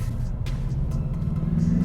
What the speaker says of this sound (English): I don't know if you can hear that exhaust note